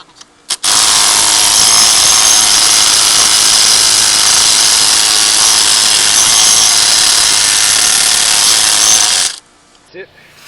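A power tool whirs loudly and steadily for about nine seconds while removing a reverse-thread castle nut from a GY6 150cc scooter starter clutch, then cuts off abruptly, followed by faint clinks.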